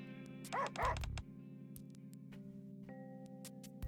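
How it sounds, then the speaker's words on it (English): Several dogs bark and yip in quick bursts within the NIKKE video game, a cluster of loud yaps near the start over a steady game music bed, then sparser faint yips. "The dogs bark and yip amongst one another, holding constant canine communication."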